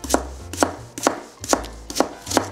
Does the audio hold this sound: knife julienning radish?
yes